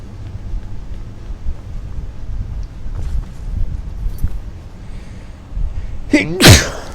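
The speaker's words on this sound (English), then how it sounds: "Turn off my mic before I sneezed." One sharp, loud sneeze bursts out near the end, close to the microphone, after several seconds of quiet background rumble.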